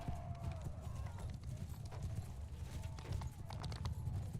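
Horse hooves clip-clop at a steady gallop in a medieval fantasy video game battle, a rider heading for high ground while faint combat sounds and a low rumble fill the background.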